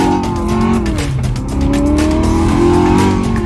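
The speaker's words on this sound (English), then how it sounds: "now engine sounds will play out of your speakers in real time" Loud engine roar with rising revs fills the car, a synthetic V8-style engine note played through car speakers, swelling and falling steadily with no talking.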